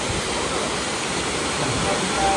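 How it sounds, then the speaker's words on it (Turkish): A small forest waterfall beside a bridge gives a steady, dense rush of falling water, loud and unbroken, with no other sounds standing out. "Küçük bir şelale ve bir köprü bizi karşılıyor."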